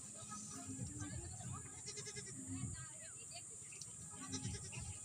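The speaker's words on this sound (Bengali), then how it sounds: "এখানে আমার ছাগলগুলো ডাঙায় নিয়ে আসছি এদেরকেও, এরাও খাচ্ছে।" Goats grazing on grassy ground beside a flooded pond give several short bleats, mid-distance, amid birdsong and rustling outdoor ambience.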